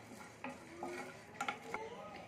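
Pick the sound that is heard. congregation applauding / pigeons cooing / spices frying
spices frying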